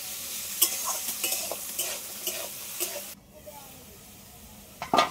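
Food sizzles and hisses in a pan while a utensil scrapes and stirs in quick irregular strokes; sizzling softens midway, then a sharp clatter near the end.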